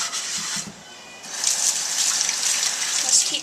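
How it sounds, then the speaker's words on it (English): Water pouring from a tap while a cast iron skillet is rinsed and rubbed, a steady close hiss that briefly drops away and then returns stronger, with a faint voice underneath. "Then once that's done, give it a good rinse."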